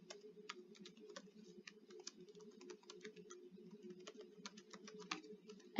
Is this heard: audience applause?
no